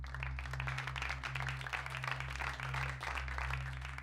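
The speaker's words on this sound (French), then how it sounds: "Mais offrez-leur des applaudissements!" Applause from a gathered group in a TV drama scene, a steady, faint wash of many hands clapping for several seconds over a constant low electrical hum.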